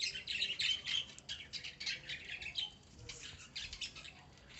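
Lovebirds kept in an aviary chirp and squawk in a dense, continuous chatter of overlapping high calls, moderately close, with no talking.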